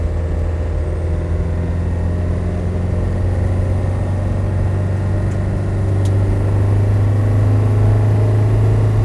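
A classic Land Rover Defender 90 soft top driving along a gravel road, its engine a loud, steady low drone heard from inside the cabin throughout, with no voices.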